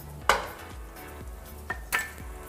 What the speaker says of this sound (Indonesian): Untuk tahu yang kita olah atau kita tumis cukup sampai berselaput saja